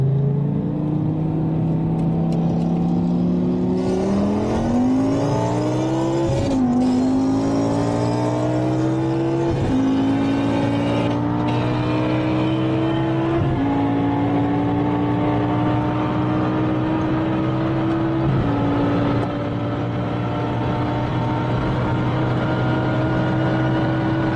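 A Dinan stroker BMW M6 with a naturally aspirated V10 accelerates hard in a race against a Porsche, its loud engine whine climbing through several gear shifts. Each shift brings a brief dip before it climbs again.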